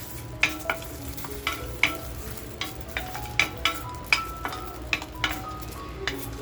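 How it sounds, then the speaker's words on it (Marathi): Chillies dry-roasting in a pan for chicken thecha, stirred with repeated sharp spatula knocks against the metal at a fairly regular pace over a low sizzle. "आपल्याला ना हे व्यवस्थित अगदी मिरची भाजून घ्यायची"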